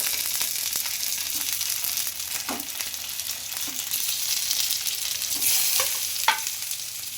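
Tempering spices sizzling and crackling in hot oil in a pan for a quick wheat flour snack, a steady close frying hiss with a few soft stirring scrapes and pops, no talking.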